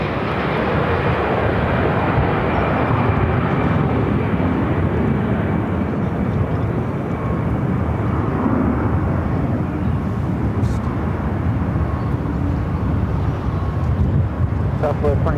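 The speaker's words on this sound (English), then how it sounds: "This is American Airlines Flight 699 headed to Austin on an A319" Jet airliner noise at Phoenix airport from an American Airlines A319, a steady loud broadband roar filling the whole stretch with no letup, some wind buffeting on the microphone.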